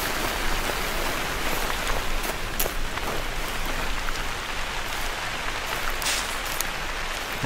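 Heavy rain falls in Hunter: Call of the Wild, a loud, unbroken wash of hissing drops with occasional sharper taps, steady throughout with no voices.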